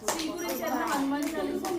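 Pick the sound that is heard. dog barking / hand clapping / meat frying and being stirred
hand clapping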